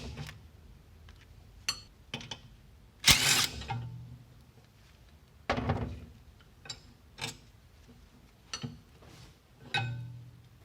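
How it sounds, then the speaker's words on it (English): Bolts are worked out of a disc brake caliper mounting bracket on a spindle assembly, giving faint, sporadic metallic clicks, ratchet ticks and a few sharper clunks spaced irregularly against a quiet background. "The caliper mounting bracket can be removed from the spindle assembly by removal of these two bolts."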